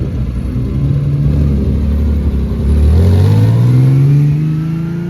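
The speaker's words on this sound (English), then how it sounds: "That screaming V12 sounds so damn good" V12 engine of a late-1990s Le Mans prototype race car, a loud, close mechanical drone that climbs steadily in pitch as it accelerates over several seconds.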